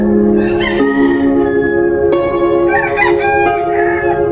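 A rooster crows loudly and close by in a long, drawn-out harmonic call, with other fowl calling and clucking around it in a farmyard.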